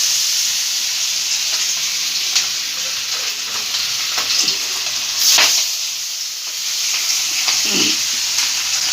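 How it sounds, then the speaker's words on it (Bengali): Fish pieces, rubbed with mustard oil, frying one by one in hot oil in a wok, giving a steady close sizzle with occasional louder crackles and pops, no talking. "কড়াই তেল গরম হয়ে গেছে, এবার মাছ এক এক করে মাছ ভেজে নিচ্ছি।"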